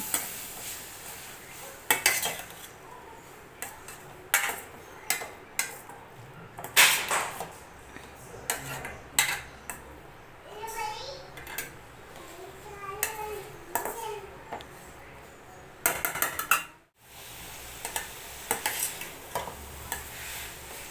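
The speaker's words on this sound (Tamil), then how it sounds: "இப்போ இந்த நெய்யிலே கேரட்டை வதக்கி விட்டுடலாம்." Grated carrots being sautéed in ghee for carrot halwa: a soft sizzle under repeated scraping and clinking of a spoon against the pan, close and irregular, with a voice faintly talking in the background.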